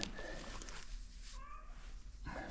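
A cat meowing in a garage during a Yamaha outboard lower unit oil change, a few faint, drawn-out mewls from a confined cat, heard alone at low level over background noise.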